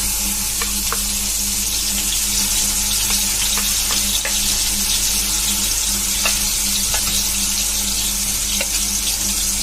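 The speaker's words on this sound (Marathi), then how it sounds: "ही कांद्याची पेस्ट पण हलकी ब्राऊन होईपर्यंत भाजून घेणार आहोत" Ground onion paste fries in a couple of spoons of oil in a pan, a loud, continuous close sizzle with scattered soft taps and stirring scrapes.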